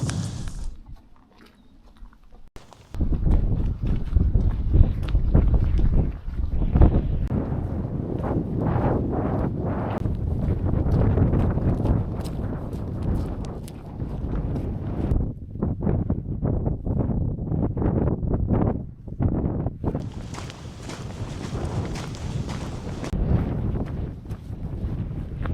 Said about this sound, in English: Wind's really picked up now.